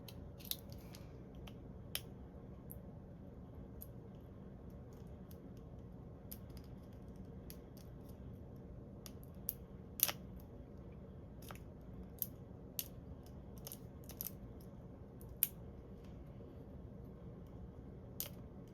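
Scissors snip paper beneath a lid outdoors, faint scattered crisp cuts spaced irregularly over a quiet background hum.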